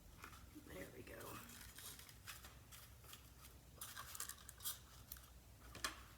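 Scissors trim leftover yarn from a nail-and-string flower art piece, giving a few quick, light snips against a low background hiss.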